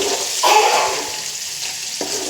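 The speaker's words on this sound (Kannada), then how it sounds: "ಈಗ ನೋಡಿ ಯಾವ ಥರ ಫ್ರೈ ಮಾಡ್ತೀನಿ ಅಂತ ತೋರಿಸ್ಕೊಡ್ತೀನಿ" Eggs frying in hot oil with turmeric in a pan, a close, steady sizzling hiss with a couple of brief louder spits and no talking.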